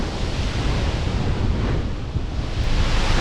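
Tropical storm in Jamaica: roaring wind buffeting the microphone over heavy, crashing surf, a dense continuous rumble with surges and no voices.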